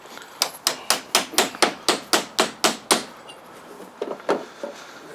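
Eleven quick, evenly spaced hammer blows fasten decking boards near a butt joint, sharp close wooden knocks in a steady rhythm, followed by a pause and a few lighter, irregular taps.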